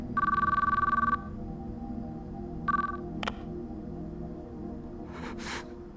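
Phone ringing in the Chaos;Child video game: a long trilling electronic ring, followed by a shorter second burst, over a low background hum, then a brief sharp click and a soft rustle.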